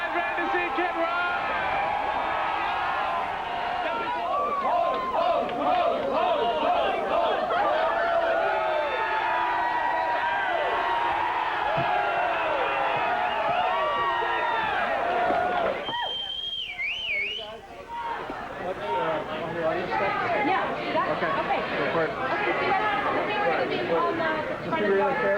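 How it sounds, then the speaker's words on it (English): Excited crowd noise before a Kid Rock show, a steady dense wash of chatter and cheering that carries on under and around talk for the whole stretch, with a short dip partway through. "Crowd's getting a little excited."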